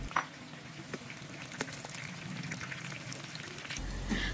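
Garlic, shallots and seeded katokkon chilies sautéing in hot oil give a quiet, steady sizzle and fine crackle with a few small pops, close up and without talk.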